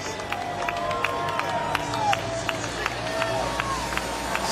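A large stadium crowd at a Clemson vs Louisville football game roars in a broad, steady wash of cheering and hubbub, with repeated sharp claps or thumps over it and a voice talking.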